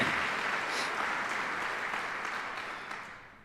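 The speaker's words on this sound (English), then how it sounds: "Let's give him a round of applause, please." A sustained round of applause from an audience at a military change of responsibility and retirement ceremony, dense and steady, then slowly fading toward the end, with no voices over it.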